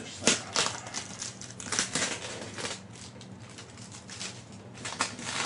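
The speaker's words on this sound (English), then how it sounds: "let's start and unwrap this thing" Plastic wrapping being pulled off a boxed HO scale McKinley Explorer model train set, giving close, irregular crinkling and rustling bursts with no talk.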